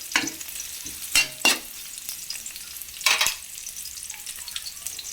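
Ginger sautés in a hot pan for a sardine dish, with a constant sizzle broken by several loud scraping stirs from a utensil, close up and without talk.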